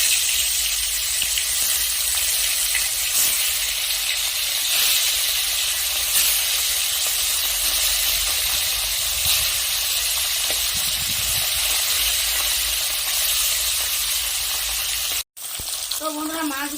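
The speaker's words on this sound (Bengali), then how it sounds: "এখন আমি মাছ ভেজে নেব" Fish frying in hot mustard oil, a loud, dense, continuous sizzle and hiss close by that holds steady for a long stretch, then breaks off for a moment before returning.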